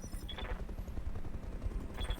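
Rapid bursts of gunfire from mechs in the BattleTech Roguetech video game, a dense continuous low rumble of shots with brief sharper cracks near the start and end.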